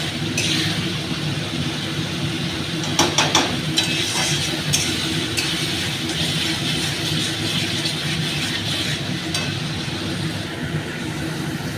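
Ingredients being sautéed in a pan for a home-cooked dish, a steady sizzle and scraping of stirring running throughout with a few sharper clatters, no talking.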